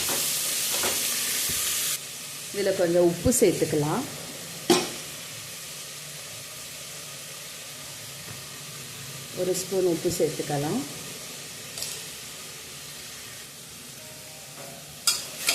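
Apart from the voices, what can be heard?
tomatoes sautéing and being stirred in a pan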